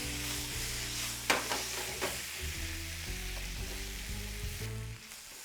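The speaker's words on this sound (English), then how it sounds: "I'm going to give it a little splash of sherry vinegar." Sherry vinegar hits a hot pan of shishito peppers and sizzles steadily close up, with a few sharp crackles and stirring scrapes over the constant frying hiss.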